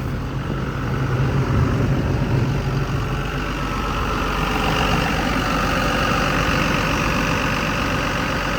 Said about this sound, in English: I'm gonna idle it down.